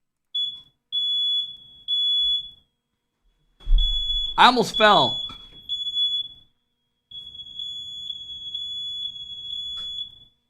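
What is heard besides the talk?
smoke alarm going off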